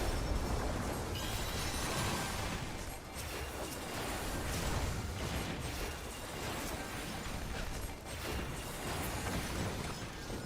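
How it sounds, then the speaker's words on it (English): Continuous rumbling blasts and bursts in the video game Final Fantasy XIV roll on without pause, loud and dense, one explosion blending into the next with whooshing debris layered underneath. "Look at all these explosions"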